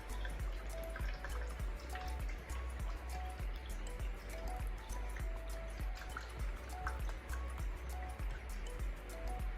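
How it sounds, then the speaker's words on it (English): An electric fan blows indoors, giving a steady airy whoosh over a low constant hum that stays even and unbroken throughout. "it's gonna be my fan blowing in the background."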